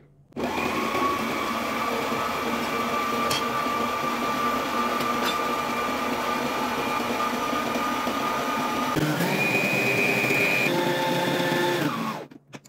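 An electric mixer whips cream with a steady whirring drone, then steps up to a higher-pitched whine as the speed rises near the end before cutting off, with no one talking.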